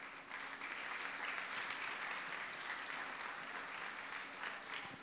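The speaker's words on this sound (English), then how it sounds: "आपण जोरात टाळ्या वाजूया" Steady, sustained applause from a church congregation during a Sunday service in Pune, marking a Bible quiz prize; dense hand-clapping at an even level from start to finish, with no voices over it.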